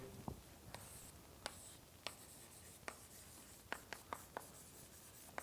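Chalk or marker strokes on a board during a math lecture, a series of sharp, scattered taps and short scrapes at irregular intervals, fairly close in a quiet room with no talking.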